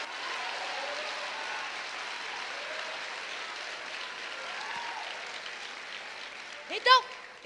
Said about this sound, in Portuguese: Se é para aplaudir, aplaude sem preguiça,